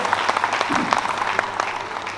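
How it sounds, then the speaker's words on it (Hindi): Loud, steady applause from the audience at a Hindi comedy poetry gathering on an Independence Day evening, a dense clatter of many hands lasting a couple of seconds with a faint voice underneath. "मैं चाहता हूँ पूरा सदन एक बार जोरदार तालियां गौतम जी के लिए बजा दे"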